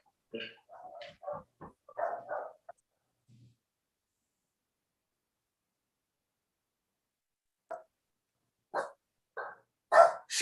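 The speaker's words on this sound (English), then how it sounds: "That's why she probably barked" A female dog barks a few times in short, separated bursts near the end, after a stretch of quiet that follows some earlier talking.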